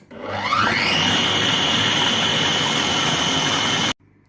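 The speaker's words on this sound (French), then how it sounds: "je vais maintenant mélanger 1 minute à vitesse 8" A Cookomix food processor blends an endive and Boursin velouté at speed 8, its motor whining up over the first half second into a loud, steady high-pitched whir that cuts off abruptly near the end.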